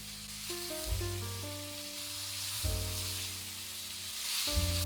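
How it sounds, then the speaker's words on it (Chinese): Crab pieces and claws frying in hot oil in a wok, a steady close sizzle broken by several sharp thumps and scrapes as the pieces are moved around, with no voices. "蟹块要煎到呈焦黄色"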